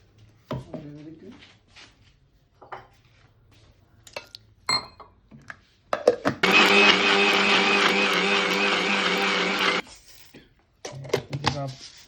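A mixer grinder whirs loudly for about three seconds, grinding tamarind and spices for a fish curry, while someone speaks before and after it runs amid light kitchen clinks.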